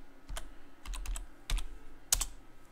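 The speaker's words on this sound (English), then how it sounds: "we're going to enter a new password for Bob" Someone types a new password on a computer keyboard: a few scattered, soft keystroke taps in small clusters, close by and fairly quiet, with no talk.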